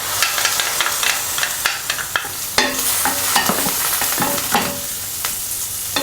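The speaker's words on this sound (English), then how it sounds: "Next, add some oil to the pan or a wok. Saute the chopped garlic," Chopped garlic, ginger and scallion sautéing in hot oil in a wok, a steady loud sizzle with frequent scraping stir strokes of a spatula against the metal.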